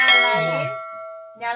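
A notification bell sound effect gives one bright ding that rings out with shimmering overtones and fades, then a second struck tone begins right at the end.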